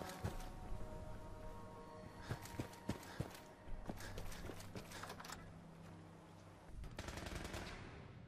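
Bursts of rapid gunfire crackle repeatedly in a Fallout 4 firefight at Bunker Hill between synths and super mutants over a steady droning background, with sharp single shots and short volleys scattered throughout, loud and close.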